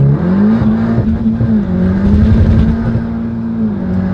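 A tuned Cupra with a DSG gearbox tune launches from 4,200 RPM, its engine loud and close, holding a steady drone with slight pitch wobble.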